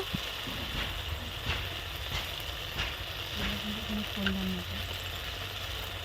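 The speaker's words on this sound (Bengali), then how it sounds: "ভালো করে মশলাটা কষিয়ে নেব" Spice paste with turmeric frying in a pan for a tengra fish curry made with orange: a steady low sizzle with faint scraping stirs and occasional clicks, under a quiet background hum.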